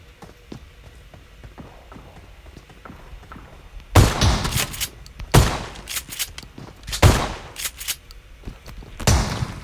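Shotgun blasts in PUBG Mobile: after quiet footsteps, several loud, sharp bursts ring out close by in an uneven sequence.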